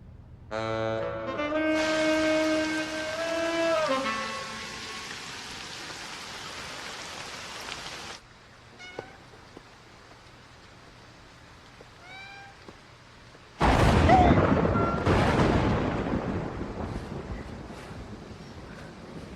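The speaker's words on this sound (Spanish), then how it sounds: "Truena y llueve otra vez." Rain and thunder from a horror film arrive as a sudden loud wash of heavy rain partway through. Before it, a quieter stretch carries mewing tonal sounds and scattered faint noises.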